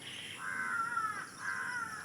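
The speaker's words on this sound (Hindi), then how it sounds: "कौए का काँव काँव, कौए का काँव काँव बोलना।" A crow perched in a village tree caws twice in the early morning, each harsh call stretched and distinct, heard alone against a faint steady ambient hiss.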